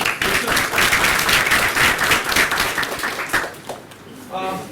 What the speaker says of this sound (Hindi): इनके लिए ताली बजनी चाहिए